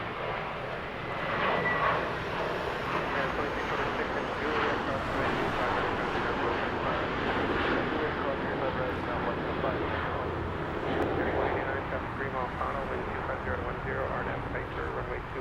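Steady broadband jet engine roar of a Boeing 747 at Los Angeles International Airport, a continuous loud rumble held for the whole stretch, with faint talk under it.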